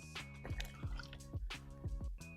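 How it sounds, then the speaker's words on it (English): Water is poured into a drain hole in the body of a Mercedes-AMG GTC, giving a run of gurgling drips and splashes in a regular rhythm, fairly faint. "We're gonna pour good amount of water in."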